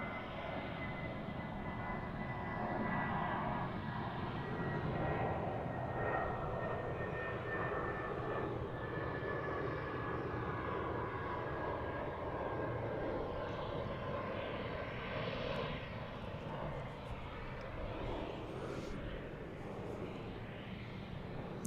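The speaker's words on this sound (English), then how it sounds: "Viva Aerobus departure down to Monterrey," A Viva Aerobus jet airliner departing DFW airport, bound for Monterrey, Mexico, with a steady, distant engine roar and whine holding evenly throughout and no voices over it.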